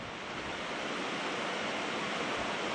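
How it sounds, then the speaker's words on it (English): Sleet and snow mix pelting a metal roof in brutal wind, a steady dense hiss of icy patter filling the whole clip with no voices. "we got a nasty sleet snow mix here. You could probably hear it hitting the metal roof."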